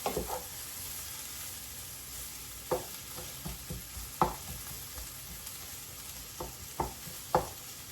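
Chicken chow mein fries in a pan with a steady sizzle, broken by several sharp scrapes and clacks as it is stirred.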